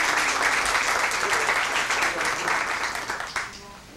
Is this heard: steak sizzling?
no